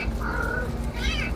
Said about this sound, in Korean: 건물 가장자리 땅속에서 고양이 울음소리가 들립니다.